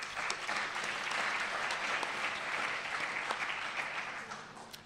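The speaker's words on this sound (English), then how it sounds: "they also are worthy of a round of applause" A crowd at a student leadership awards ceremony claps steadily and fairly loudly for nearly five seconds, a dense wash of hands that tapers slightly toward the end.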